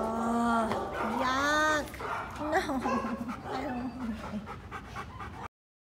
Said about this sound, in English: you can see the dog plays really nice